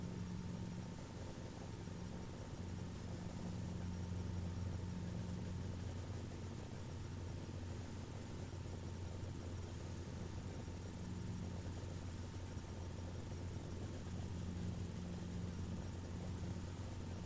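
A Robinson R22 Alpha helicopter lifts off in a normal takeoff during a flight training lesson, its engine and rotor giving a steady, loud droning hum that holds evenly throughout with a low pulsing tone.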